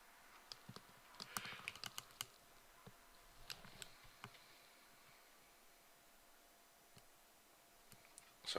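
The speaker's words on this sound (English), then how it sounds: "Keep double clicking." Quiet, scattered mouse clicks, some in quick pairs, tap away in sparse bursts during Football Manager 2018 over a faint background hiss.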